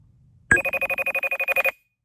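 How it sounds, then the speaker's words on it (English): A smartphone rings after being triggered from a G-Shock GSW-H1000 smartwatch: a loud, close, rapid electronic trill of about a dozen quick pulses lasting just over a second, then silence. "About to ring the phone."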